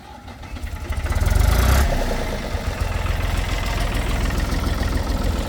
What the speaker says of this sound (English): He went and got on his tractor.